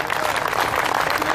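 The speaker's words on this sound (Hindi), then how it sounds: "एक बार जोरदार तालियां बजाकर समर्थन करिए" Audience at a Hindi poetry event breaking into dense, loud applause, a steady burst of clapping from a crowd with no gaps.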